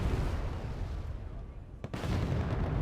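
Distant artillery and mortar fire rumbles continuously in the Wargame Red Dragon strategy game, a low booming roar with one sharper crack near the end.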